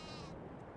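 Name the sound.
sheep bleating in a farming video game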